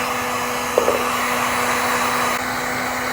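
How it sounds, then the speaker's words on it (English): Heat gun blowing hot air over heat-shrink connectors, a steady close whine and airflow hum with a small tap near the start, then a slight drop in level toward the end. "when you're heating, get it so it starts to melt, and then keep moving around with your heat gun"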